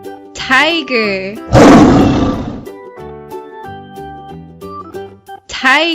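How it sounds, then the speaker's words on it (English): A tiger gives one loud, rough roar lasting about a second, set between a narrator's spoken words naming animals. "tiger,"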